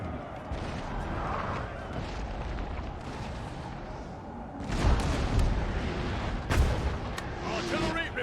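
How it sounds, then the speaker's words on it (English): Musket volleys and cannon booms roll across a Napoleon: Total War battlefield, a dense continuous rumble with heavier blasts swelling near the end. "My guys are still shooting at them though, so that's doing quite a lot of damage."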